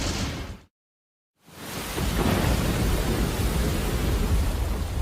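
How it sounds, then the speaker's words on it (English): A thunderstorm with heavy rain at sea around a giant ship: dense, roaring rain and rumbling thunder fill the scene, broken by a brief moment of silence before the downpour returns at full force. "The Atlanta is weathering the storm, which is losing intensity."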